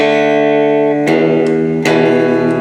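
A clean electric guitar rings out with sustained chords, struck twice more, each strum blooming with a reverb tail.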